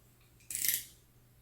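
A blade cuts through cork sheet along a marked line for a train display case: one brief, close, crisp snip with a fading rustle, alone in a quiet room.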